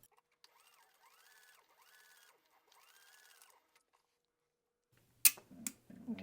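A sewing machine basting fabric runs in a few short, quiet bursts of rhythmic stitching, followed by louder handling clicks and thumps near the end.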